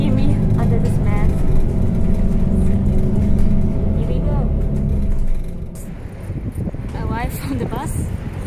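City bus riding through Offenbach, its engine rumbling loud and close throughout, with the drone easing a little near the end while a person talks over it.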